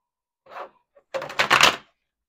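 Tarot cards being shuffled, a short soft riffle followed by a louder, longer flurry of papery card sounds, close by and without talk.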